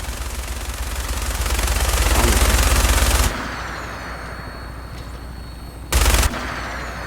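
Sustained rapid automatic gunfire in modded Fallout 4 roars as a dense, loud barrage for about three seconds, then cuts to a quieter background before a second short, sharp burst of shots, with no talking.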